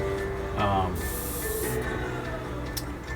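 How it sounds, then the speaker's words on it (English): An airbrush sprays pre-thinned orange Pro Scale paint onto a model MPC General Lee car, a loud steady hiss under a second, surrounded by quieter clicks and room noise. "it does come pre-thinned, so you can spray it right out of the jar, just like you just saw me do"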